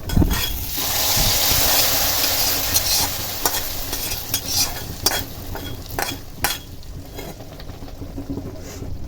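A spatula stirs thick khichuri in a hot pan, scraping and clinking against the metal in an uneven rhythm over a continuous sizzle, close by and with no one talking.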